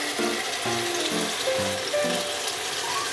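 Red wine vinegar sizzles on frying vegetables for caponata in oil, a steady close hiss with soft stirring clatter and no talk.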